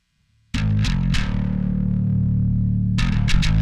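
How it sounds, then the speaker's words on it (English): Bass guitar through a Darkglass combo with more aggressive distortion: a few sharp plucked attacks, then one long sustained, buzzy note ringing loud and close before another quick pair of hits, with no voices. "Getting a bit more aggressive with the with the distortion."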